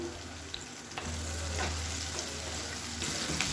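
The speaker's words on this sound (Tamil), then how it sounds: "தக்காளி வந்து நல்லா வதங்கட்டும்" Onion and tomato sautéing in a pan for Dindigul chicken biryani, with a steady soft sizzle and occasional stirring scrapes close by.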